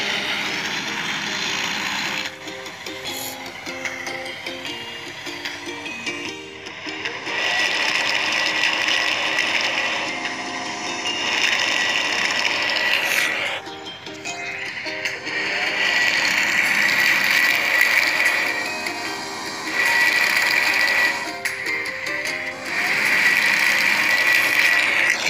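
Toy-like drilling machine in a kids' building video game boring holes for piles, a steady mechanical ratcheting, gear-grinding whir with cartoonish effects, running in long loud stretches broken by brief pauses, no talking.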